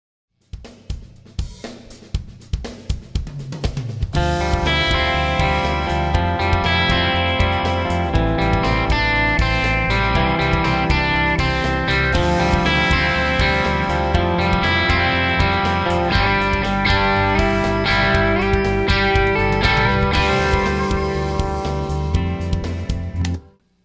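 Electric guitar part recorded with a Royer ribbon microphone: a few sparse picked notes open, then thick, sustained distorted chords ring out loud and continuous until a sudden stop.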